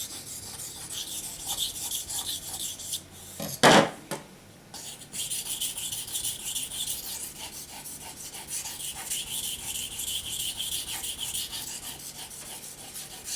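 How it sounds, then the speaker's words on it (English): A hunting knife is stroked steadily on a 1000-grit waterstone in a continuous, even rasping rub. A brief louder scrape comes early, then the gritty strokes go on close and alone. "regularly 1000 is the most important waterstone to sharpen"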